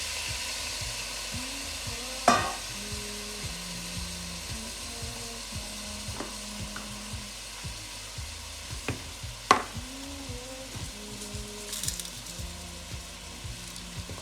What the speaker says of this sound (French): Quand votre viande est déjà dans la casserole et qu'elle est en train de frire